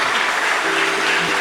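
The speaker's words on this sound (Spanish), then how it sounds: "Dale un aplauso al Señor." Steady, dense applause from a church congregation praising the Lord, a continuous loud wash of many hands clapping, with a faint voice or tone underneath.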